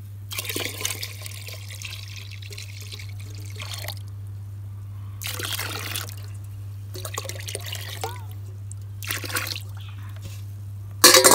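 Water poured into a bucket to mix a homemade plant fertilizer, several separate bursts of splashing pour broken by pauses over a steady low hum, fairly loud and close, with no talk.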